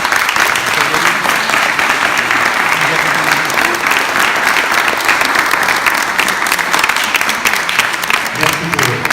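A large audience at a formal gathering claps loudly and continuously for several seconds, a dense, even wash of applause with faint voices mixed in.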